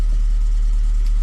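A used car with a holed exhaust idles close by, giving a steady, even low rumble that holds without change for the whole moment, with no voices.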